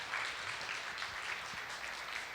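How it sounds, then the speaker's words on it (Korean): An audience at an author talk with Lee Byeong-ryul gives sustained, dense applause, a steady wash of many hands clapping at even strength throughout. "다시 한번 이병일 작가님께 큰 박수 부탁드리겠습니다."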